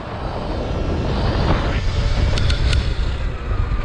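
A Surron XX electric dirt bike accelerates at full throttle, giving a loud, continuous rising whine with heavy wind rush that stays close throughout.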